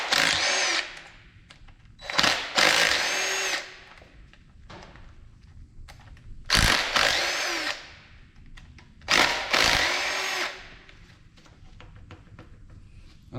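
Several short, loud power-tool bursts, some doubled, spin out 8 mm valve cover bolts on a Chevy 5.3 Suburban engine during teardown, separated by quieter handling noise and occasional thuds.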